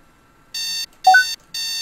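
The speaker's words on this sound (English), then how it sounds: "And then the alarm's gonna go off shortly." An alarm clock goes off in the horror video game A Girls Fabric Face, sounding three evenly spaced electronic beeps, each lasting about a third of a second. A short two-note chime falls between the second and third beeps.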